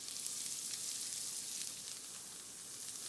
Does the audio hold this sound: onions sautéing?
yes